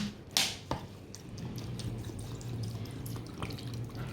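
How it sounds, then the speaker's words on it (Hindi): Water is added to a homemade spicy matka chili soda drink, heard as a few quiet drips and small splashes over a soft running trickle, close by and with no speech. "थोड़ा सा इसमें पानी ऐड करेंगे"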